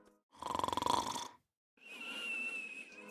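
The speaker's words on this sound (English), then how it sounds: "A dormouse." A dormouse gives two short, faint calls: a rapid pulsing buzz, then after a brief pause a thinner, steady whistling squeak.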